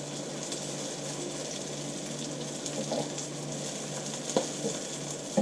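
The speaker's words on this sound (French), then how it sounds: "J'ai mis les deux styles de nems dedans. Voilà, et vous allez voir que ça va cuire très rapidement." Vegetable spring rolls fry in hot oil, giving a steady, moderately quiet bubbling sizzle with small crackles and occasional louder pops near the end, and no one speaks.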